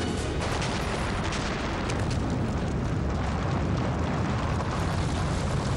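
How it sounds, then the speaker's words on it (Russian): A massive, rumbling torpedo explosion aboard the Russian submarine Kursk fills the whole clip, a dense roar of noise that stays loud and sustained rather than fading. "Взрыв. Ударная волна проникает в командный пункт."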